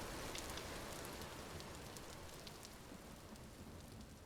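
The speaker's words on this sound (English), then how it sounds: "Wait, it rains! I think this is the very first rain." Steady rain falls evenly throughout in the video game Vintage Story, a dense hiss with scattered droplet ticks, with no thunder or voices.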